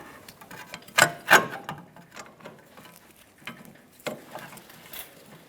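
A ratchet with a 17mm socket works a shock mount bracket bolt on a 2013-2018 Toyota RAV4, giving close, sparse metallic clicks and a couple of louder knocks between quieter ratcheting bursts.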